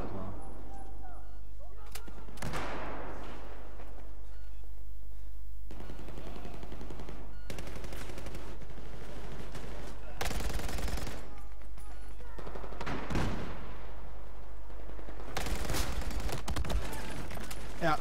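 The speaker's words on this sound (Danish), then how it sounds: "så står jeg og skyder på en, så kommer ham der Christ og skyder mig i stedet for" Battlefield 4 gameplay gunfire: sharp bursts and volleys of shots in clusters, some loud and close, others farther off, over constant low rumble, with players talking through parts of it.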